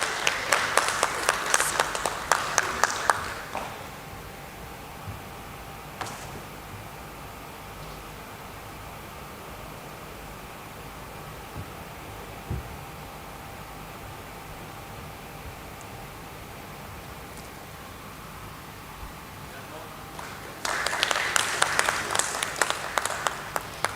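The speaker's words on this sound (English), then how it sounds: "Let's welcome him with a round of applause." An audience applauds at a stock exchange listing ceremony for Maiden Forgings Limited at BSE, with dense clapping in two bursts, one at the start and one near the end, separated by a long quiet stretch of room murmur.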